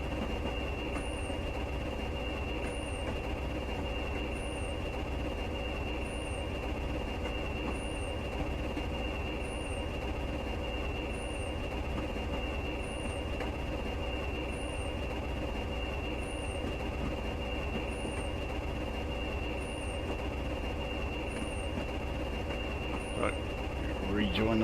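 A Class 20 diesel locomotive in Train Simulator Classic runs on the line from Stranraer Harbour toward Dumfries, with a continuous engine drone and a rhythmic clicking of wheels over rail joints throughout.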